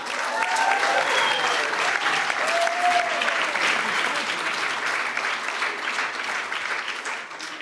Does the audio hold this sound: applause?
yes